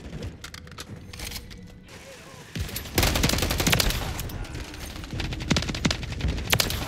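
Video game assault rifle fire, rapid automatic bursts of loud, close shots that grow denser after a brief pause, with sharp cracks over a rumbling background.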